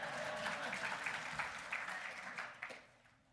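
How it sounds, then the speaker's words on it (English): Audience clapping during a keynote address at a summit, a sustained wash of many hands that swells with a few sharper claps and then fades out near the end, heard from some distance. "I think we should always clap for President Obama"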